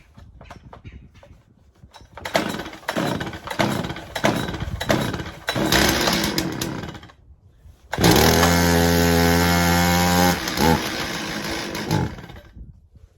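A Stihl MS270C chainsaw, cold from sitting outdoors, sputters through several short bursts before catching and roaring loudly up close, then idling down to a rough, uneven running note.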